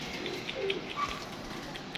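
Paired pigeons coo softly at a distance, a few faint, low calls rising over a quiet background hum with a light chirp or two.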